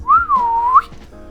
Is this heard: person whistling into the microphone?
yes